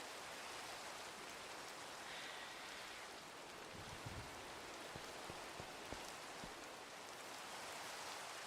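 Steady rain in a video game, a constant faint hiss of falling drops with a few soft low knocks in the middle, heard alone without talk.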